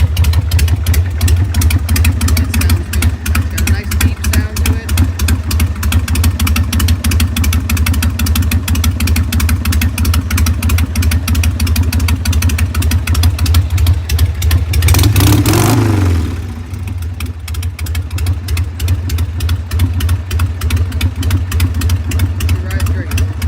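A 1996 Harley-Davidson Sportster XL 883 motorcycle engine runs loud and close with a steady rapid thumping idle, rises in one brief rev near the end, then settles back to idling.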